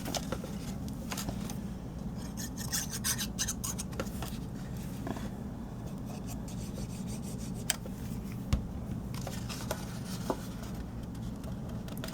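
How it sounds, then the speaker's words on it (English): A bone folder rubbed firmly along the folded flap of a handmade paper gift box, producing steady close scraping and rubbing strokes with a few small taps, quiet and continuous with no talking. "Run my bone folder over that."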